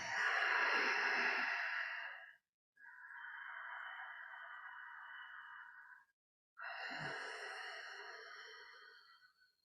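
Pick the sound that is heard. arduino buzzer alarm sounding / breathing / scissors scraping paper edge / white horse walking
breathing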